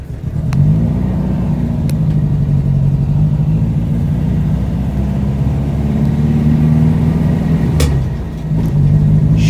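A 1964 Volkswagen Notchback with a stock shifter drives slowly, its engine rumbling loud and steady from close by, with a brief dip as it shifts gears.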